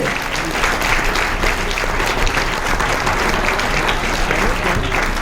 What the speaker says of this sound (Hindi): एक बार छोटा तालियां तो देना चाहिए।